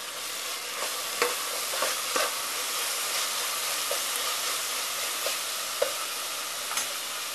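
Coconut and coriander paste dropped into frying onions in a pan for a Maharashtrian stuffed crab dish, giving a steady close sizzle with scattered stirring scrapes and small spattering pops throughout.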